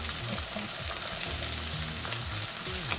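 Noodles frying in a pan with shrimp scampi: a constant, fairly quiet sizzle and crackle with faint stirring movement.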